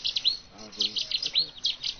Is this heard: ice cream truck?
no